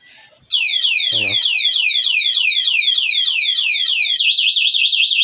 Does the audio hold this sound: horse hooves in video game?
no